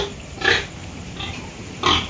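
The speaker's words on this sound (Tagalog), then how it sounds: "Ito yung pinakamaganda sa 6 na magkakapatid na biik ni Dodong." Piglets from a litter of six grunt and squeal in a few short bursts, close by with a low background hum between the calls.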